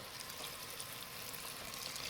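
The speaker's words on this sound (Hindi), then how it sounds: "इस स्टेज पे हम इसमें गर्म पानी डालेंगे।" Hot water poured into rajma masala in a pressure cooker, giving a soft, steady, hissing sizzle that stays even throughout, fairly quiet, with no voices.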